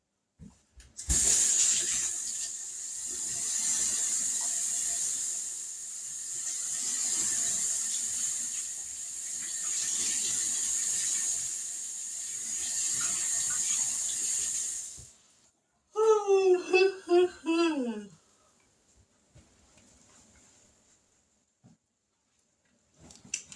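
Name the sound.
water running from a tap while washing hands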